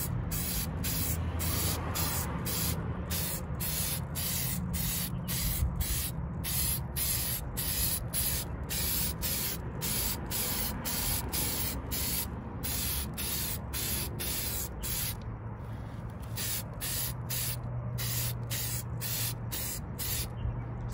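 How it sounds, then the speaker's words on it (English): Long bursts of aerosol spray hiss repeatedly in quick succession, close and steady, with short gaps, spraying HyperDip satin black onto Tesla Model Y Gemini wheels. "Spray at an angle to get the different angles of the wheels."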